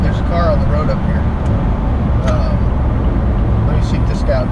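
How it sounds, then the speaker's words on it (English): A car drives along a road with a steady, loud rumble of tires and engine that fills the whole stretch without pause. "Oh, there's a car on the road up here."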